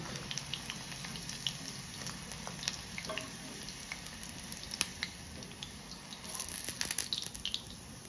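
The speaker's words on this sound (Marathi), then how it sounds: "गरम तेलामध्येच हे तळायचं आहे" Chicken 65 deep-frying in hot oil gives a steady, faint sizzle with scattered crackles and pops that run without a break and no voices.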